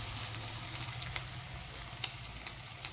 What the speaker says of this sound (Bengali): ছোট ছোট করে বড়ার মতো আমি প্রথমে ভেজে নেব।